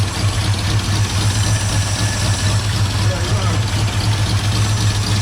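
A 1978 Ford Bronco engine idles with a steady, throbbing low rumble that holds even throughout, with a small exhaust leak where the muffler meets the manifold, and voices talk over it.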